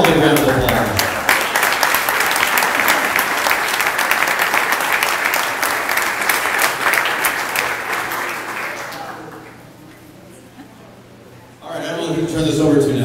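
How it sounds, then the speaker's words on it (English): Big round of applause from a banquet audience for the celebrity waiters at a 2012 charity dinner, dense and sustained for about nine seconds before thinning out, then swelling again briefly at the end. "let's give them all a big round of applause"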